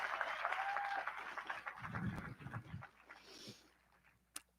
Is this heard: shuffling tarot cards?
no